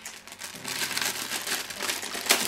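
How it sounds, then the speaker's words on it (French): Plastic packaging crinkles and rustles close up as a metal Tonor microphone spider mount is unpacked, with a continuous stream of crinkling and one sharper crackle near the end. "Donc on va déballer ça."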